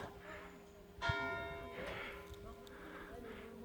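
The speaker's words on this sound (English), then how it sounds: "There's the bell ringing." A single bell strikes once in a village in the Dordogne, France, sounding at moderate distance with a ringing decay, while people talk nearby.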